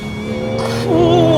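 A sports car accelerating hard on launch control, a loud close engine drone rising steadily in pitch with a faint tire squeal as it pulls away.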